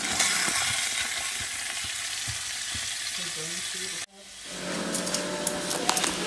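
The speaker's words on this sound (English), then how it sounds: "chops in the pan, and I will be cooking each side for 10 minutes each" Meat chops fry in a pan with a loud, steady sizzle and crackle, briefly cut off before the spitting hiss returns and builds again.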